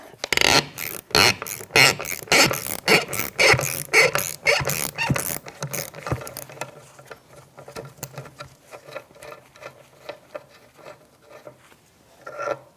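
Ratchet with a 13mm socket undoing a spinning vent window shaft in a 1992-1996 Ford F-150 door, giving rapid loud clicking bursts for about six seconds, then quieter, sparser clicks and light handling noises.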